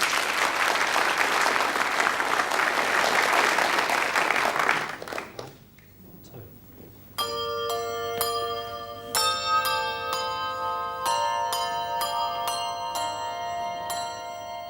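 Applause from an audience fades out, then a family group of handbell ringers starts playing, with clear ringing bell strikes sounding in a steady melodic sequence, near and distinct.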